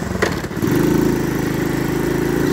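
Honda ATC110 three-wheeler engine running close by, a steady, loud mid-pitched drone that picks up after a brief dip and holds evenly throughout.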